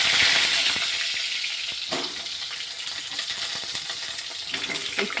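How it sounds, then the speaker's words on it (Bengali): Potatoes fry lightly in rice oil with a close, soft sizzle that fades slightly, broken by a few sharp clicks and taps of utensils. "আলুগুলোকে আমি হালকা করে ভেজে নেব।"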